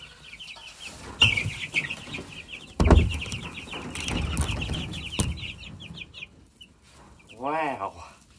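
Chickens cluck and a rooster sounds in the Farming Simulator farm game, a loose run of short clucks, with a louder thump partway through and voices talking over parts of it.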